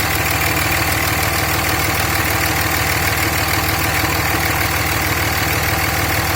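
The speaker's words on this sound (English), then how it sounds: "Here we are under the hood with the engine running." A truck engine idles under the open hood, a steady, close, loud rumble with a fast, even vibration and no pauses or voices.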